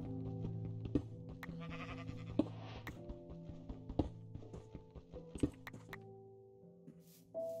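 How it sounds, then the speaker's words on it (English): Sheep bleat repeatedly in the Minecraft video game, several close, clear calls over a steady game music bed with occasional soft thunks. "Shut up, sheep."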